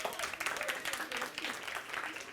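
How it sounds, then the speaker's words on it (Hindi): Enthusiastic audience applause at a religious healing gathering, a thick wash of many hands clapping with slight surges and dips across the whole span, fairly close and loud. "एक बार जोरदार ताली हो जाए इनके लिए"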